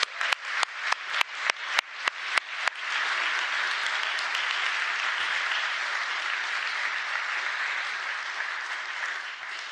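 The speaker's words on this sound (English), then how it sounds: "A great round of applause just for this part." Conference audience applauding at a closing session: a few sharp claps at first quickly swell into sustained, dense clapping from a large crowd that holds steady for several seconds before tapering slightly.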